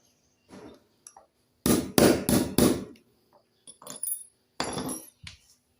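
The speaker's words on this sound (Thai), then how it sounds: "นี่ครับเราทุบ ทุบก็ให้มันตรงนะครับ" Old bent nails being hammered straight, metal hammer strikes on nails in a quick burst of four sharp blows, then a few scattered single knocks, close and loud with no talking.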